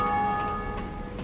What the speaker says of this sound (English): All right, finally, time to ring our first bell.